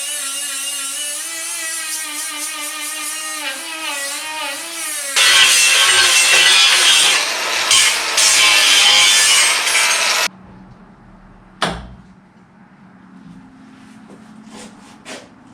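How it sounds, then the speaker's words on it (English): A power grinder cuts down metal on a Toyota Tacoma rear axle, loud and continuous for several seconds before stopping abruptly, followed by a single sharp clank and quieter shop sounds; a whining tonal sweep runs at the start. "We'll grind this down so we can put the finger back into place"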